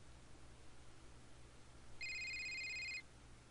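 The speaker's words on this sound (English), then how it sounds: "The phone was ringing." A phone ringing in the video game Asagao Academy: one steady electronic ring burst lasting about a second, clear over a faint low hum, with no talking.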